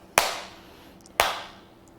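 Two sharp, close hand claps about a second apart during a children's dance routine, each crisp and alone against a quiet room.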